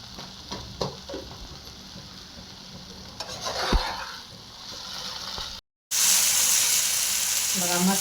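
Mashed eggplant bharit stir-fried in a pan, with sizzling and scraping stirs under faint background noise, a brief dropout, then a louder hissing sizzle at the end.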